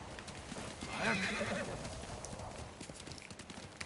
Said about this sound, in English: I thought it was somebody else's horse.